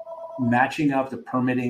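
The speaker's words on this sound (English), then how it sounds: "Apologize for the phone going in the background. I can't shut the house phone off." A house telephone rings in the background, its tonal ring audible under someone speaking in the foreground.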